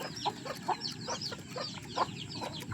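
Native chickens cluck in short, repeated bursts while being fed, the calls overlapping close by over a steady hum of farmyard background noise.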